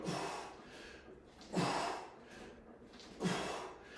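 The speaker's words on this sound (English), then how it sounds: "See, I'm exhaling every time I come." Three forceful breaths out during kettlebell hip hinge swings, each a short, close, breathy exhale in an even rhythm, with quieter breathing between them.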